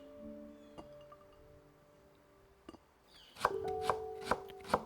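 Vegetables for bibimbap are julienned with a knife: a few scattered quiet taps come first, then a quick run of sharp, close knife strikes on a cutting board.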